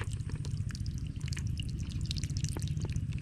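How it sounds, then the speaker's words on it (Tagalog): Irrigation water runs through a farm field, a steady close trickle with scattered drips and splashes lasting throughout. "Yan po ay lumalakang tubig pagka binuks natin."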